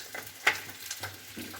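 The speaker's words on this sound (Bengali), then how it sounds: "ওইদিকে আলুটা ভাজা হচ্ছে বন্ধুরা।" Potatoes fry in hot oil in a kadai, giving a soft, faint sizzle with a few sharp crackles and light stirring clinks. Nobody talks.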